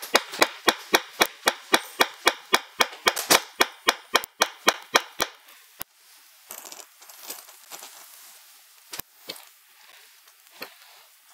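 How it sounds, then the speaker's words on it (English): Tools strike leather being beveled for a handmade watch band, a fast, steady run of sharp, close taps that stop partway. Scattered softer knocks and rustles follow. "Actually, I have quite a bit of beveling to do here."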